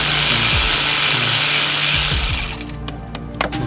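A power tool rattles and hammers loudly at close range as header bolts are loosened on a 2015–2017 Mustang GT during an off-road header install, running steadily before stopping abruptly into a few short clanks.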